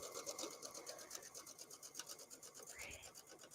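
A sewing machine stitches a mesh laundry bag, a faint, quick, evenly pulsing whir running continuously in the background of a quiet room.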